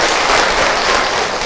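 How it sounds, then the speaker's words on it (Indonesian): An audience at an Islamic study gathering claps loudly and continuously, a thick, unbroken wash of many hands close by. "Tepuk tangan untuk orang Tangerang."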